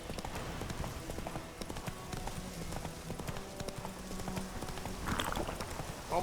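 Hoofbeats of a horse galloping in The Witcher 3 video game, a steady clip-clop rhythm running throughout alongside game ambience, with a brief louder burst near the end.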